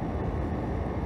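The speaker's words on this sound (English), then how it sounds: "This option is designed for situations where maybe you have an air conditioner in the background" Background air conditioner hum: a steady, dense broadband rumble with no change over one second, with no other sound on top.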